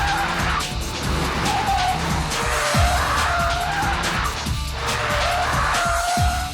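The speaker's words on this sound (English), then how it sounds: "the Stig's going to set a lap time in a Vauxhall Astra diesel" A Vauxhall Astra diesel hatchback driven hard around a track, engine roaring continuously with gear changes and bursts of tire squeal, close and loud throughout.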